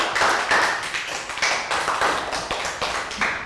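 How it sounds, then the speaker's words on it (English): Applause in a primary classroom as Year 3 pupils clap for a classmate who has just walked, a short burst of close, lively clapping with uneven rhythm, fading and resurging over a few seconds. "Round of applause for Chew."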